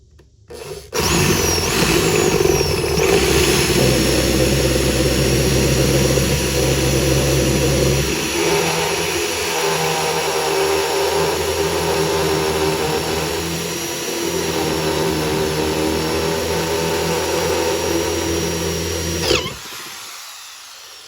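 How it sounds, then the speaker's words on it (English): A power drill fitted with a wire wheel runs continuously at high speed for about twenty seconds, a loud, steady whine with grinding rasp that shifts partway through before stopping abruptly, no voices. "always make sure you have your drill going in the right direction for drill bits, not wire wheels"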